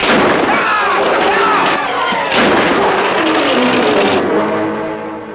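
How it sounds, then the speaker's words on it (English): Loud, rapid bursts of gunfire crackle continuously, booming and echoing, with a few sharper shots standing out and voices faintly under the din. "No, gunshots. They came from town."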